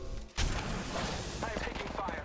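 Gunfire in the battle royale shooter Apex Legends: after a brief lull, a loud burst of shots erupts and keeps rattling in a dense, sustained volley, with a voice faintly under the shooting.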